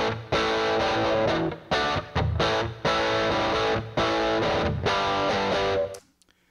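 Distorted electric guitar chords recorded on a Headrush MX5 play back in bursts with short pauses, then the final chord rings out and fades into a reverb tail.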